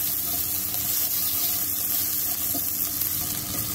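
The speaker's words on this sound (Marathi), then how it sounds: "हा बटाटा, आता दोन्ही ह्या अमूल बटरवर घालून परतून घ्यायचं" Diced potato and onion sauté in Amul butter for tomato soup, giving a dense, steady sizzle that stays close and constant throughout, with no talking.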